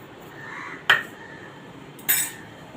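A spoon clinks twice against a bowl as sugar is added to curd, two bright metallic taps about a second apart over a quiet kitchen background, with no one speaking.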